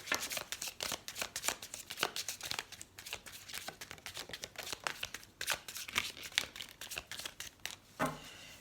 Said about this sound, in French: on va tirer quelques cartes de l'oracle des amoureux pour avoir des petits messages supplémentaires